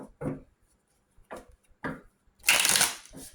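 Tarot cards are shuffled in short bursts of dry riffling, three quiet brushes followed by a louder, longer riffle near the end, close and with no talk.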